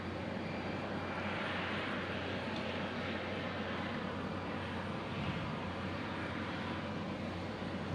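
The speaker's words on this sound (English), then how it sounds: "Is this a Max 8, 737 Max 8?" A Boeing 737 MAX 8 airliner landing at Omaha Eppley Airfield gives a steady, loud broadband engine roar that continues unbroken throughout and is heard from an outdoor spotting position.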